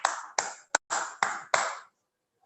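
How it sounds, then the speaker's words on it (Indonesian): A few distinct claps ring out in an online webinar, six sharp, spaced hand claps with bright tails, then silence. "Kita beri tepuk tangan dong untuk PT Tetra Hill."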